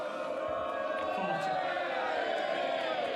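Crowd at a snooker shoot-out match between Ken Doherty and Matthew Stevens in Wales, a steady dense roar of cheering and voices from a large audience, sustained at an even level throughout.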